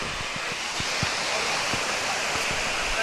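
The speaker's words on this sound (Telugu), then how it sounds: "ఎట్లా ఉంది నీకు వాటర్ ఫాల్ ఇది చూస్తుంటే?" A waterfall roars as a dense, steady rush of falling water, continuous and fairly loud, with faint low thumps from wind or handling underneath.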